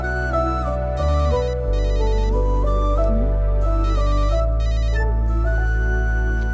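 A phone ringtone plays a repeating electronic melody for an incoming call, loud and steady throughout with no voices.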